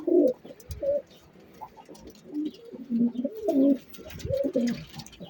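Pigeons cooing nearby in repeated low, throaty phrases, with faint background noise between calls.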